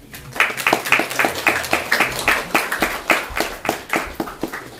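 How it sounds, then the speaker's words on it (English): Rhythmic clapping from an audience at a lecture, roughly three claps per second in unison, close and crisp, continuing steadily throughout. "Give them applause."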